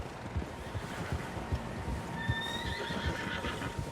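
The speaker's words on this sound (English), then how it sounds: "Horses, quite a few of them." Rhythmic clip-clop of several horses moving steadily in the video game Red Dead Redemption 2, with a horse neighing partway through, over a low wind-like background.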